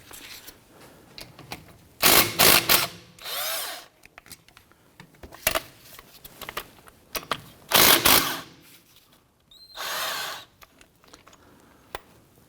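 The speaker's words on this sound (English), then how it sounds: "What I'm doing is I'm pushing that piston into the caliper itself." Brake caliper piston being pushed back into the caliper on the front brakes of a 2017-2020 Hyundai Elantra, heard as bursts of scraping, clicking and metallic grinding interrupted by short pauses, with no talking.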